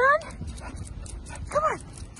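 A pit bull dog whimpers in high, sliding whines and gives short yips and barks, eager to go for a run, close by with a person talking around the sounds.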